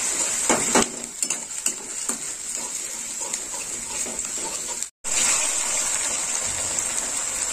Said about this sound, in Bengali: আর একটু নেড়ে নেবো।